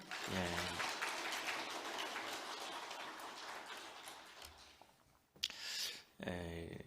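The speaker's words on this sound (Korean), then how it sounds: "우리 모두에게 다시 한번 박수 한번 하십시다" A church congregation at an early-morning special prayer service claps together in a dense, rain-like patter, with a voice speaking briefly at the start and again at the end.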